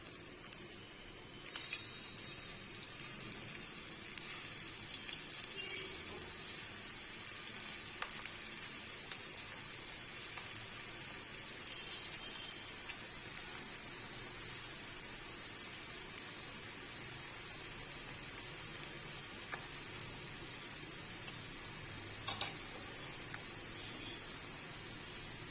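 Crisp cauliflower and chana dal vadas frying in hot oil, a steady bright sizzle and hiss that runs throughout, with occasional small pops and clinks.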